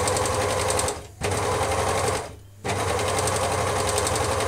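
An overlocker stitches a very fine rolled hem, its fast, loud whir running in steady bursts broken by two brief stops.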